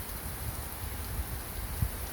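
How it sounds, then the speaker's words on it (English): Heavy rain falling in Houston, heard from a porch, a dense, steady hiss of downpour with a few soft nearby drips and thuds, and no voices. "it got to raining too hard."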